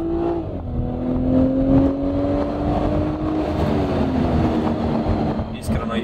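A BMW F30 340i xDrive drives in Sport Plus mode, its engine droning steadily from inside the cabin and rising and falling in pitch as it shifts, while someone talks over it.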